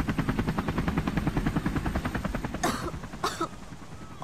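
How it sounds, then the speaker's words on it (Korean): Orange fire helicopter flying low over Jeju, a rapid rhythmic rotor chop pulsing steadily and fairly close, briefly broken near the end by two short bursts of coughing or throat clearing. "헬기가 되게 낮게 난다."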